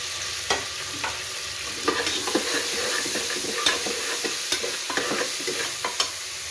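Onion and tomato sizzle steadily in a pan for pulao, with a constant close frying hiss and repeated soft scrapes and knocks of stirring.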